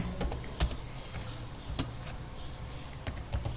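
Keys on a computer keyboard are tapped in short, uneven bursts to type a command, a handful of distinct clicks standing out over a quiet room hum.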